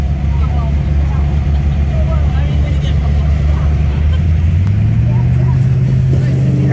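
A Mopar car engine runs at a drag strip during a nationals event, a loud, continuous low rumble that rises in pitch toward the end, with a voice talking over it.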